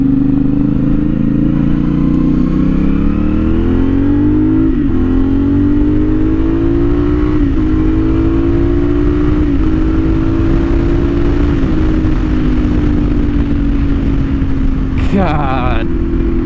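CFMOTO 450SS motorcycle with a new aftermarket exhaust, a loud continuous engine note that rises and falls through several revs and gear changes over a sustained run, with a brief clatter near the end.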